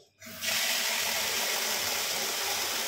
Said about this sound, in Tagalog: Tapos, lagyan lang natin ng tubig.